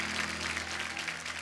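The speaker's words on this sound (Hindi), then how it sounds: "तो आप सबकी जोरदार तालियों के बीच में स्वागत करना चाहूंगा श्रेया धन्वंतरी।" A studio audience at a comedy talk show claps in a continuous, even wash to welcome actress Shreya Dhanwanthary, moderately loud and sustained over a low steady hum.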